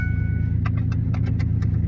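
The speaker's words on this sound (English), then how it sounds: "I just engaged my vehicle." A car engine idles steadily close by after being started, a low constant hum with a few light metallic clinks and rattles over it.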